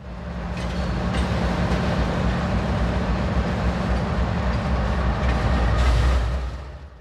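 A Norfolk Southern freight train of empty auto racks, train 11E, pulls away from Walkertown with a steady, moderately close rumble that swells slightly before easing off at the end.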